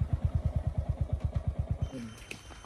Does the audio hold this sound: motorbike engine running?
yes